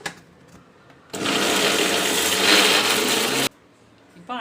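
A mixer grinder whirs loudly and steadily for about two seconds, grinding banana flower and soaked chana dal, starting and stopping abruptly, with quiet kitchen sounds before and after.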